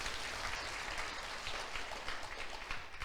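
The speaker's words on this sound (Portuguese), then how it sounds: "Aplauda o Senhor porque Ele salvou você." A church congregation applauding the Lord during a service, a thick, rain-like roar of many hands clapping continuously for about three seconds, close and loud.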